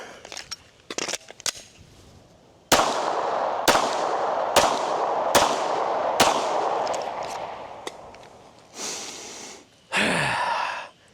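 A Glock 17 Gen 5 pistol fires a string of six loud, close gunshots about a second apart, each with a long echoing tail. Softer handling clicks come first, and there are breathy gasps and sighs near the end.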